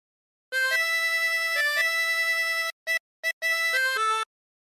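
A harmonica plays a phrase of the folk tune Roll the Old Chariot Along, held reedy notes shifting in pitch with a few short breath gaps, played solo and clearly with no voices.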